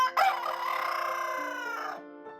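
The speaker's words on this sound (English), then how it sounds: "After a few crows" A pet rooster crows once at home in the early morning, one long, loud cock-a-doodle-doo lasting about two seconds, close by and alone, with no talk.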